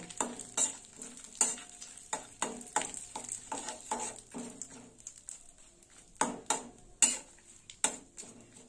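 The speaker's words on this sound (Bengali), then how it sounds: "ফোড়নটা একটু ভালো করে ভেজে নেব" Asafoetida (hing) tempering spices fried in hot oil: a soft, close sizzle broken by frequent sharp clinks of a metal spoon against the pan, in an irregular rhythm.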